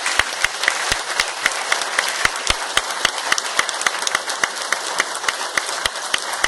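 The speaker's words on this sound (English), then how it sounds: "So I think we should be giving this guy a round of applause." Audience at a UFO conference applauding, sharp irregular claps at a moderate distance, steady throughout without much swelling or fading, no voices over it.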